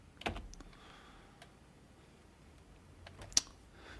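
A few faint, sparse clicks of a computer keyboard as an address is typed into a web browser, with a soft tap near the start and a sharper click later over quiet room hiss.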